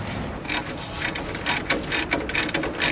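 Ratchet wrench tightening front suspension nuts during a coilover install on a 3rd-gen Toyota 4Runner, a series of close, sharp clicking bursts in an irregular rhythm, no talk.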